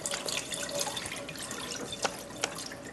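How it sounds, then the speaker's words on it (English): Rinse water poured off grits into a sink, a continuous trickling stream with a few distinct drips near the end, close and fairly quiet. "You're going to hold it and gently pour."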